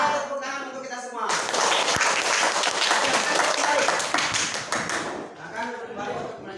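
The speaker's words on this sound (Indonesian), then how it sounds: "Tepuk tangan untuk kita semua." A group of participants bursts into sustained applause for about four seconds, dense and loud, framed by speech before and after.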